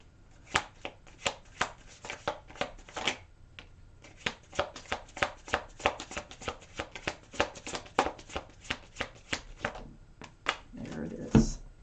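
Tarot deck shuffled by hand during a weekly reading: a long run of quick, crisp riffling card snaps, close and fairly steady, with a short pause and a soft thump of cards laid down at the end.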